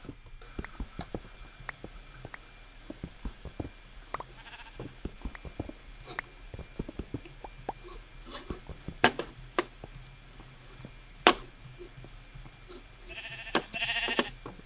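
Sheep bleating in Minecraft, a few short game bleats scattered over a steady background of clicks and footsteps, with no talking.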